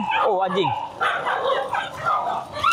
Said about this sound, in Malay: Oh, anjing mengganggu kita.